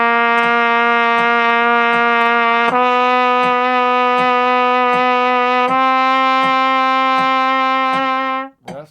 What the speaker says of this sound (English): we're going to play chromatic long tones up the chromatic scale by half steps